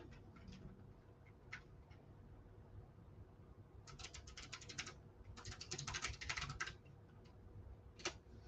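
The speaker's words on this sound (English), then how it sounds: "You hear that mechanical keyboard in action." Clacky keystrokes on a mechanical keyboard, with sparse single clicks first, then dense bursts of fast typing in the middle, moderately close over a low steady background hum, no speech.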